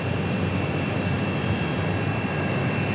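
Steady broadband roar of a Southwest Airlines jet in Triple Crown livery at Phoenix Sky Harbor airport, continuous and fairly loud with a constant engine whine and no talking.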